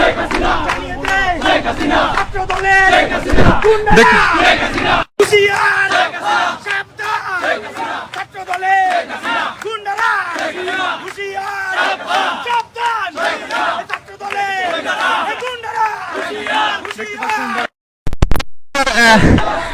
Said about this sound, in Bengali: জ্বালাময় স্লোগান দিচ্ছেন ছাত্রলীগ নেতা কর্মীরা